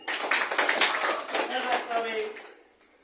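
An audience at a lecture breaks into applause: dense, many-handed clapping that stays loud for about two and a half seconds, then thins out and fades.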